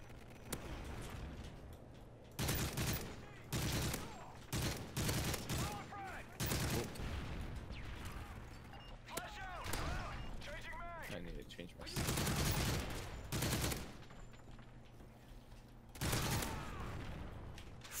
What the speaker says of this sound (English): You're just shooting on top of me.